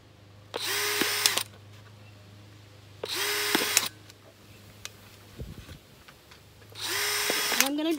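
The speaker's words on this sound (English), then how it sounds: "I'm going to go ahead and drill some more holes" Power drill boring holes into a plastic Dollar Tree stackable planter cap, three separate whining bursts of about a second each, close and loud, separated by short quiet gaps.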